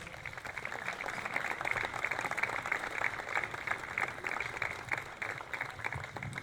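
An audience applauding at a memorial concert in Pederobba, a dense steady wash of many hands clapping that holds for the whole stretch without pause.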